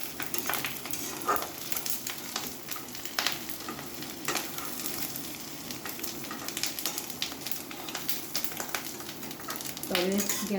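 Fish roe fries in a pan with a continuous close crackling sizzle, broken by frequent stirring scrapes and utensil taps throughout.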